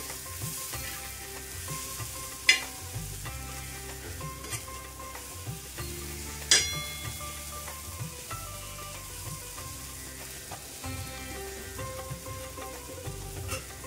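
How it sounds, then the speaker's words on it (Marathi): Spices and salt sauté on a hot griddle for cheesy masala pav, giving a soft, steady sizzle under repeated spatula stirring and scraping, with two sharper clacks of metal on the pan. "हे थोडंसं मिक्स करायचं, मसाले वगैरे छान परतून घ्यायचे।"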